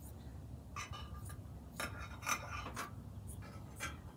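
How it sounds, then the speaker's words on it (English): Scissors slice across a T-shirt just below the armpit, making several short, crisp snipping and rasping bursts with brief pauses, faint and close against a low background hum. "we'll take our scissors, and right under the armpit of the shirt, we're just gonna cut it across"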